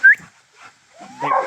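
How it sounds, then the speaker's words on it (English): Dogs at a black bear baiting site in Minnesota give a few short yips and whimpering barks, moderately close and isolated, with quiet gaps between them. "Sorry for the dogs"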